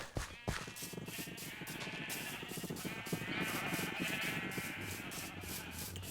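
Sheep in Minecraft Bedrock bleat repeatedly in a pen, several overlapping calls over a steady rubbing, scraping game background, moderately quiet with no talking.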